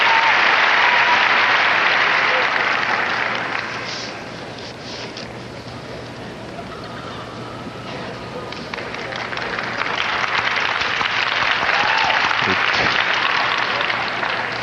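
The crowd at the 1987 Westminster Kennel Club dog show herding group applauds and cheers loudly and without a break, easing off slightly in the middle before swelling again.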